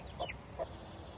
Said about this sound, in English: backyard chickens, so fun.